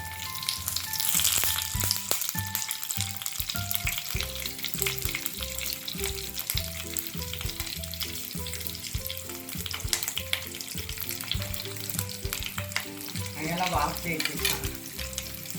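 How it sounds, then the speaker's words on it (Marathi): Steamed stuffed bitter gourds with curry leaves shallow-fry in oil for masala karela bhaji, giving a continuous close sizzle and crackle with occasional light stirring clinks and a steady hum underneath. "ही भरलेली कारली अशी छान याच्यामध्ये कढी याला खूप हलवायचे नाही वाफवून घेतलेली आहे अगदी शालो फ्राय करायचे"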